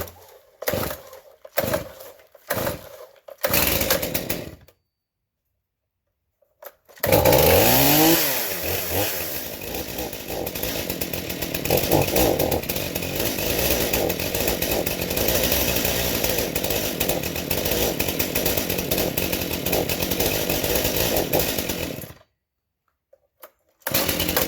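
Tractor 271 cold-starts on full choke: several short cranking bursts with pauses, then the engine catches and runs at a steady, loud, buzzy idle for about fifteen seconds before cutting off abruptly.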